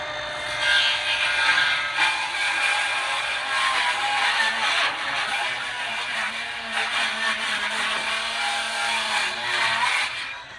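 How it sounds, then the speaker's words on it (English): A circular Skil saw cuts through a wood board, giving a loud, sustained high-pitched whine that wavers slightly as the blade moves through the cut, then tapers off at the end; no voices. "So I'm going to get my skill saw ready and get it going."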